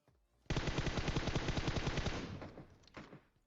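A long rapid burst of automatic gunfire rings out in a video game, loud and close, with the rattle tapering off into a final few shots.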